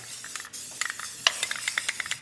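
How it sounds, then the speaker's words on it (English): Flat black spray paint hisses from a can in short, uneven bursts while coating parts of a Bandit Trans Am during a wiring kit install, with faint rattles between sprays. "I'll give a little bit of flat black spray paint in there"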